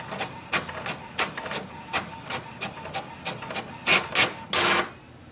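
An HP OfficeJet Pro 8135e printer printing a page: close, uneven mechanical clicks and ratchets, with a louder whirring feed near the end before it stops; no talking.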